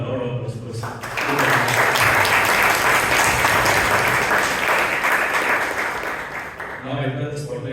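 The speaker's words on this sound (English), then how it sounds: "Let's give a lot of applause." Audience applause at a Toastmasters club meeting swells into a thick, continuous roar of clapping that lasts several seconds, with voices heard briefly before and after it.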